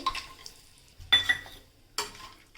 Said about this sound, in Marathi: खडे मसालेसुद्धा आपण चांगले परतवून घेऊयात